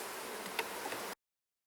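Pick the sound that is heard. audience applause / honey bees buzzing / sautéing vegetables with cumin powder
honey bees buzzing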